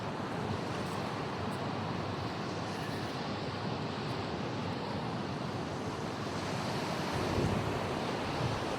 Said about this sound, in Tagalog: Lalaki kasi ng alon guys.